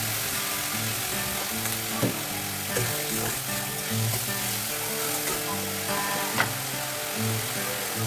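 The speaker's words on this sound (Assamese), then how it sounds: "সেইটো এতিয়া মই ভাজি ল'ম অকণমান" Steady, close sizzling of spices frying in a hot pan, with a few soft clinks of stirring.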